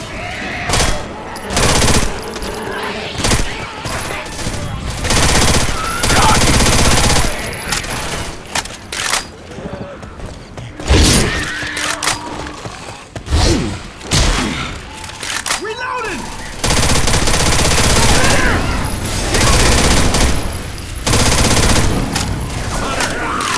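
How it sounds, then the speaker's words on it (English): Machine gun fire in Left 4 Dead 2 hammers out in long loud bursts with brief gaps, mixed with game clatter and shell-like clinks, while players talk over it. "Grabbing a machine gun."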